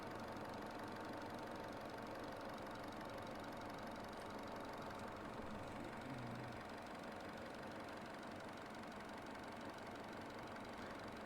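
A Chevy Cruze engine with a coolant leak idles steadily at low volume, a faint continuous hum with a light ticking texture and no revving.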